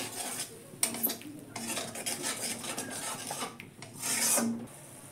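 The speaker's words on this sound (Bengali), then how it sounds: "মশলাটা একটু ভেজে নেব।" Spice paste frying in oil in a pan as a utensil scrapes and stirs it, with repeated close rasping strokes over a soft sizzle, some strokes louder and longer than others.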